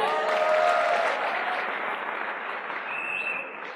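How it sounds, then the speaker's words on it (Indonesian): A crowd claps continuously, a full wash of applause that slowly fades near the end. "Tepuk tangan buat Director for Diamond Gold Lion Bapak Lo"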